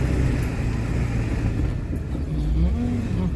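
A heavy truck on 37x12.50 tires produces a loud, steady, close engine rumble with throaty low-end roar that holds level throughout, with no voices over it.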